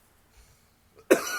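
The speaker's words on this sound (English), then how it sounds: "You still got that cough?" A single sharp, close cough bursting out after near silence.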